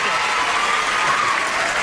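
Warm studio audience applause on a television game show, a dense, sustained roar of clapping that stays level and close for the whole stretch.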